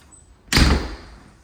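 A screen door swings shut with a single sharp slam and a brief rattling thud that fades over half a second, close and loud against a quiet room.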